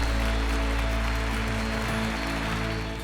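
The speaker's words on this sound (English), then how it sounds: "A round of applause" Applause from the audience at a Business Icons of India 2023 awards event: a dense, steady wash of clapping lasting throughout, with a low, constant hum underneath.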